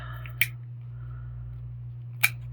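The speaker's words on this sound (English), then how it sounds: "this one I'm just going to cut all the way" Scissors cutting a Color Street nail polish strip, two crisp close snips about two seconds apart over a low steady hum.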